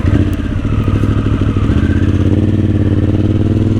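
Harley-Davidson Sportster S running with the exhaust baffles removed, a loud, deep, throbbing idle with a steady lumpy pulse, close up and alone.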